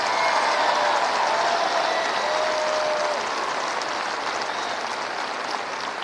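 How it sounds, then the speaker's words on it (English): An arena crowd at a girls' state high school basketball semifinal applauds honored military veterans, a dense, sustained wash of clapping from a large crowd that holds steady and eases slightly toward the end. "Let's give them a nice round of applause."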